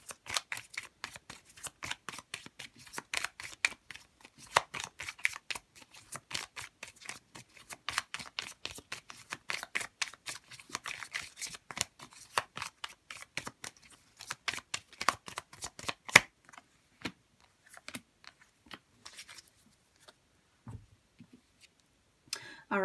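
A deck of tarot cards is shuffled close up in rapid riffling bursts of crisp clicks and slaps, steady at first, then thinning out into scattered single taps near the end.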